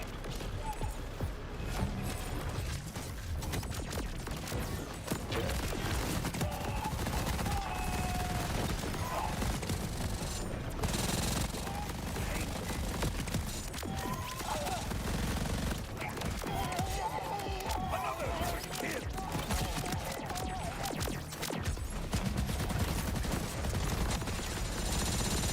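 Rapid, continuous gunfire from a Borderlands video game, with dense bursts of automatic weapons and crashing impacts running unbroken throughout, steady and loud.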